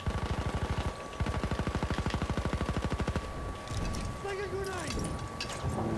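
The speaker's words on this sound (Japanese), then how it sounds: "あ、後ろ後ろ後ろから銃声じゃん。" Rapid automatic gunfire rattles in a PS4 squad-based shooter game, two long rhythmic bursts of evenly spaced shots, followed by quieter mechanical clatter as players talk over it.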